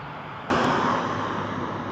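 A model airplane's engine roars up suddenly and stays loud as the throttle is pushed wide open, a steady buzzing drone after a sharp onset.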